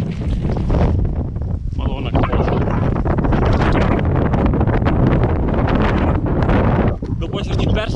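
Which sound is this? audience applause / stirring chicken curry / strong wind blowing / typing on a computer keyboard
strong wind blowing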